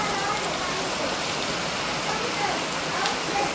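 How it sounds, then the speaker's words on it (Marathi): Heavy rain falling, a dense steady hiss close by that runs without a break for the whole stretch. "लय पाऊस आलाय जवळ"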